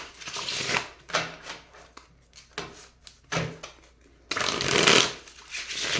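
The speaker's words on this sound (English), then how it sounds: "Seeing the High Priestess and the Magician as I shuffle." Tarot cards are shuffled by hand in several quick riffling bursts separated by short pauses, ending in a longer, louder run of shuffling, close up with no speech.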